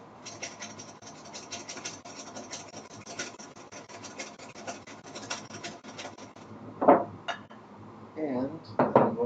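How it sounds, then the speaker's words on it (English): Egg yolks with a little salt are whisked in a bowl, producing a steady, close rapid scraping and clinking rhythm, followed by a few louder knocks toward the end. "I'm just going to break them up. I've also got a little bit of salt in there. Just gonna whisk those up a little bit."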